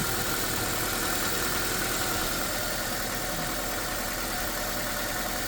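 A car engine, under repair for excessive exhaust emissions and reduced power and fuel efficiency, runs at a steady idle just after starting, a constant low droning rumble.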